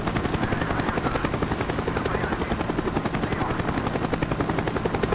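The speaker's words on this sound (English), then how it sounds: "The chopper is coming around again." A helicopter circles overhead in the Call of Duty Black Ops video game, its loud rotor thumping in a fast, even beat that stays close and constant, with no voices over it.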